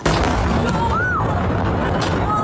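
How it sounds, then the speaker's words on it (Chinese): A deep, loud explosion boom that rolls on as a sustained roar, with a brief faint whistling tone partway through. "一声爆炸巨响"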